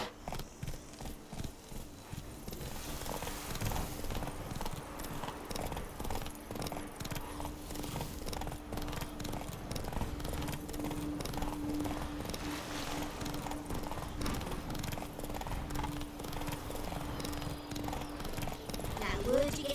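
Roach, a horse in The Witcher 3, trotting with a steady, continuous clip-clop of hooves throughout, close and fairly loud, with a voice speaking over it at times.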